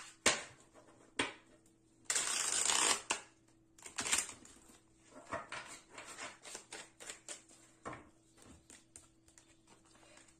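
Tarot cards being shuffled and laid out for a predictive reading, a run of soft close riffling and flicking bursts with one dense stretch of rapid shuffling, then scattered light card snaps and taps.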